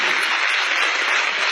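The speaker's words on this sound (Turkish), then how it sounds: "Alkış olmalı, evet." An audience at a gathering honouring Quran memorisers breaks into dense, continuous applause, loud and even throughout with no voices above it.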